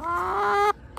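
A single backyard chicken gives one loud, close, drawn-out clucking call that stops abruptly, with no talk.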